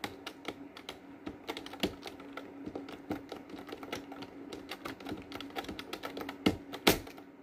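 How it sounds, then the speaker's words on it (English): Rapid typing on a computer keyboard, a close, steady patter of key clicks with a few louder strokes near the end, heard alone with no talking. "Let me type in scariest video on YouTube"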